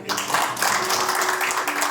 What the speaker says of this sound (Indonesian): Om, tepuk tangan dulu, yes.